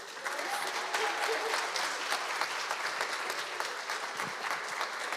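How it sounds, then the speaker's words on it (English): An audience at a student leader awards ceremony applauds steadily, a dense, even wash of clapping from many hands that holds throughout with only faint voices mixed in. "Let's give Stephen a round of applause."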